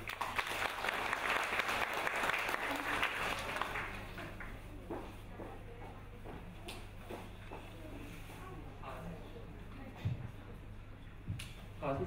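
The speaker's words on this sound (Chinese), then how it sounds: "接下来就让我们继续用热烈的掌声有请孙天晟" Warm audience applause at a piano concert of classical and Romantic music, a dense sustained clapping that is loudest at first and then thins and fades over about twelve seconds, with scattered claps continuing near the end.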